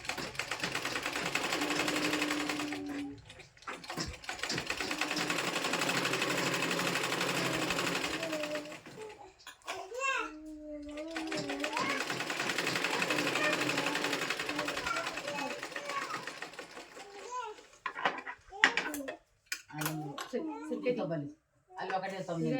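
A sewing machine stitches fabric in steady, sustained runs, pausing briefly between bursts, with a person talking over and between the stitching.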